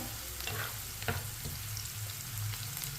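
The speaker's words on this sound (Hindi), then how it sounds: "प्याज को मैंने हल्का सा फ्राई कर लिया है" Onions sizzle in oil in a pan for a bhindi fry, a soft continuous crackle with a few faint stirring knocks. The sound is close but quiet, with no talking.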